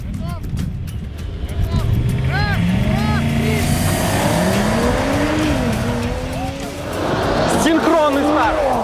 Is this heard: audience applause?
no